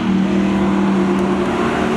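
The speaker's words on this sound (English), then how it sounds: "Off the starting line they go with Gingras." Chevrolet Z28 cars launching off the starting line at a spectator drag race, a loud, dense, sustained engine roar with a strong low drone filling the whole moment.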